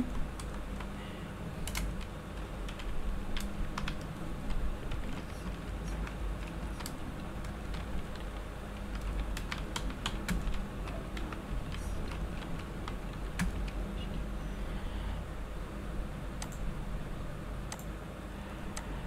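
Rapid typing on a computer keyboard while entering text in Microsoft Word 2010, with caps lock on; crisp, close key clicks patter irregularly over a low steady hum, no voices.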